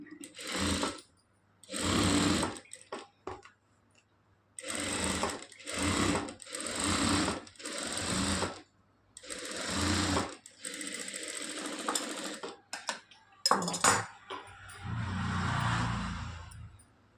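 A sewing machine joins a blouse sleeve of lining and outer fabric, running in loud, close bursts of fast whirring stitches with short silent gaps between them.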